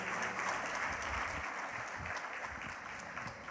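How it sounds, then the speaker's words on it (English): Sustained audience applause fills a hall at the launch of a digital summit in Sri Lanka, a dense, even wash of clapping that holds steady for several seconds before easing slightly. "Ladies and gentlemen, how about another round of applause, please?"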